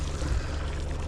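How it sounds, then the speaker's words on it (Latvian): Outboard boat motor spurting its cooling-water stream on a lake, a steady close splashing trickle with low engine rumble beneath, continuous throughout. "Motoriņš rekur čurā jau."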